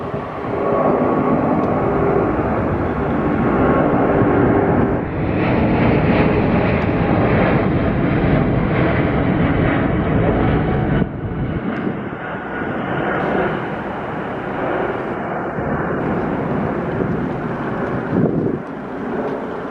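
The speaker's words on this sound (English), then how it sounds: "Rolls-Royce Trent XWBs." An airliner powered by Rolls-Royce Trent XWB engines passing, a loud, continuous jet roar that rises and then slowly fades, with wind buffeting the microphone and no talking.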